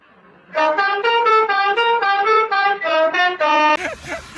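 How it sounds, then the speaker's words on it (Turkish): A car horn honks in a series of short, loud bursts close by, followed by a brief noisy shuffle. "Kornaya niye basıyorsun abi?"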